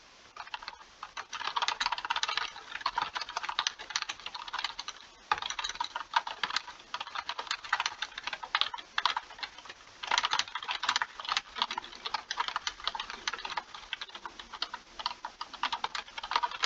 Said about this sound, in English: And this is the mechanical keyboard race.